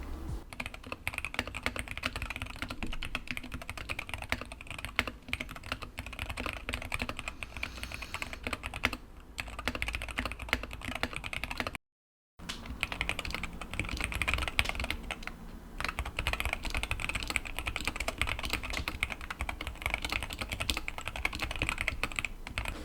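Continuous rapid clacking of keys on a Wooting 60HE mechanical keyboard with an added foam layer, dense and even, close by, with a short silent gap midway.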